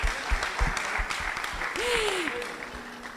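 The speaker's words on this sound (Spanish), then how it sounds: "les damos muchas gracias y un aplauso muy fuerte" A crowd at a church gathering applauds with scattered, fairly loud claps, while a voice speaks briefly partway through.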